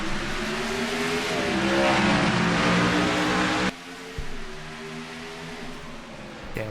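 Race cars roar together at the green flag in a Red Bull 200 stock car racing game at Watkins Glen, a loud sustained engine drone that swells, then cuts abruptly to a quieter, thinner hum with a brief bump.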